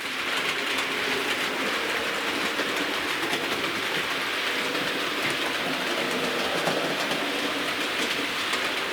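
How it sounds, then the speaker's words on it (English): A steady, continuous rolling rumble of a model train running along track through Peco points in a fiddle yard, with faint clicking texture throughout and no voices. "bring another train down the track"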